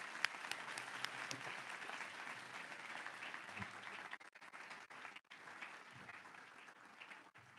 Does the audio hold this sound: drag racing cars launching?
no